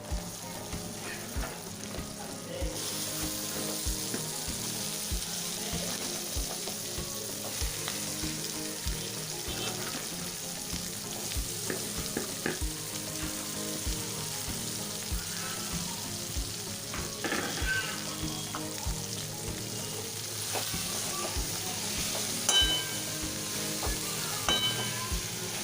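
Washed cauliflower florets sizzle and fry steadily in a hot pan of masala, a constant crackling hiss with occasional stirring clinks, close and continuous with no talk.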